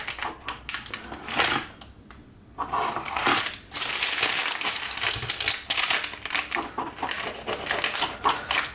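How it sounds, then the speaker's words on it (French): A knife cuts through a warm chocolate galette des rois, giving crisp, crunchy flaky crackles in irregular bursts close up, with a brief quiet gap before the crunching resumes. "Alors, je coupe ma galette."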